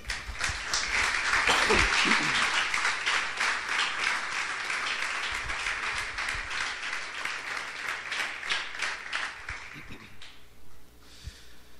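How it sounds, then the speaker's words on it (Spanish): Sustained clapping from a church congregation praising God during a sermon, loud and dense for about ten seconds before thinning out and stopping, with scattered voices underneath. "Dale un aplauso al Señor."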